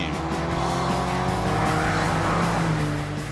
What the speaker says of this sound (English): came up with cars like this, the 505 GTI, a sports saloon to rival any BMW